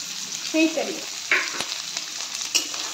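Chopped onion and capsicum frying in a pan for chilli paneer, a continuous close sizzle punctuated by a few scraping stirs, with no voices.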